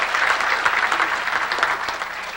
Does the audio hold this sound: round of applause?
yes